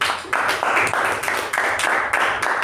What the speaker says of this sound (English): So please give a huge round of applause for Toastmaster Madhusudhan.